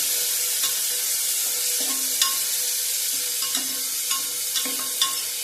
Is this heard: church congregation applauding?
no